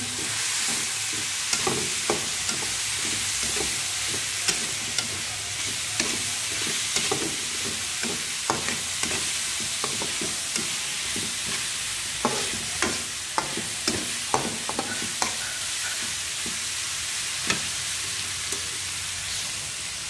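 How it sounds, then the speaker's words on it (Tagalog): Bitter gourd stir-fried with tomatoes gives a steady, even sizzle across the whole stretch, broken by frequent light clicks and scrapes of the utensil turning the vegetables in the pan. "Atin na po ilalagay ang ating ampalaya. Haluin natin."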